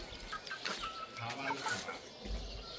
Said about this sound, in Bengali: এই দেখেন ছাদের উপরে এই যে খামার করছে